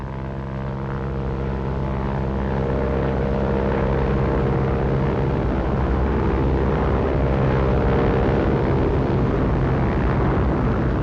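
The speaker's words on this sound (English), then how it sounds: "The RAF uses over 400 Horsa and Hamilcar gliders towed by big British Halifaxes and Sterlings" World War II Halifax and Stirling bombers tow Horsa and Hamilcar gliders, making a loud, continuous, dense drone of piston engines that swells slightly and never lets up.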